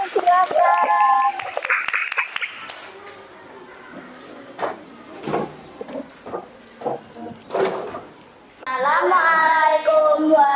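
Children clapping for a classroom group, with a burst of applause at the start and another at the end, and a voice speaking over the quieter stretch in between.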